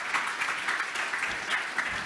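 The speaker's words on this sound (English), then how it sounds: "Big round of applause for all of them, please." An audience at a plenary session of a conference gives a round of applause. Steady, dense clapping from many hands continues evenly for about two seconds, moderately loud and without speech.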